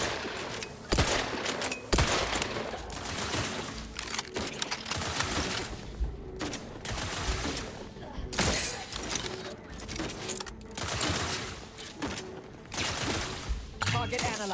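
Continuous bursts of automatic gunfire and scattered shots from a sci-fi firefight in The Outer Worlds 2, loud and dense throughout, with occasional clinking and impact noises and brief voice lines mixed in.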